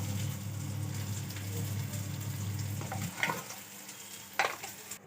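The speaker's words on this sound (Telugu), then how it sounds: "ఇడ్లీ అసలు నీళ్ళు చుక్క లేకుండా వేపిందండి" Idli pieces frying dry in a pan with no water, a steady close sizzle and stirring for about three seconds, then fading into a few scattered scrapes and crackles against near silence.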